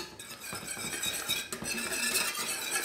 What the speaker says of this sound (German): Zwischendurch auch immer mal schön umrühren